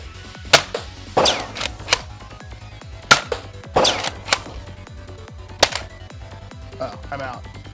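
Foam darts fired from a NERF Elite 2.0 blaster: a series of sharp, close pops with uneven gaps between shots, some in quick pairs, over a low steady background hum.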